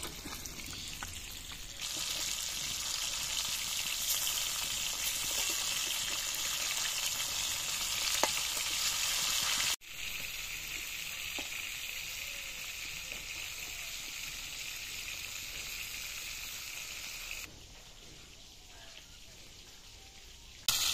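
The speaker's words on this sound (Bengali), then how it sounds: "মাছের এক পিঠ ভাজা হয়ে গেছে, এবার মাছটা উল্টে নেব।" Fish frying in oil sizzles as a steady dense crackle that rises and dips, with a sharp clatter partway through as the fish is flipped and the sizzle carries on after.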